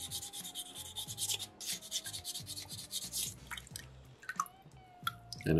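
A soapstone fish carving sanded with fine wet sandpaper, rapid rhythmic rubbing strokes up close, steady and moderately loud with a slightly wet, gritty scratch throughout.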